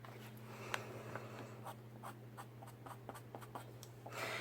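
Pastel rubs and scratches on paper in short, soft strokes of uneven rhythm while a bear is being painted, over a steady low electrical hum.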